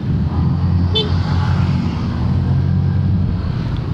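Steady road traffic on Magsaysay Bridge at 5:30 PM, a dense low engine rumble with a short car horn toot standing out about a second in, continuous and fairly loud throughout.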